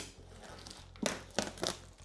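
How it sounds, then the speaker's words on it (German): Protective plastic film is peeled off a Prusa CORE One 3D printer, giving several crinkling, tearing bursts close by over a low steady background hum. "ich ziehe jetzt einmal hier die Folie ab."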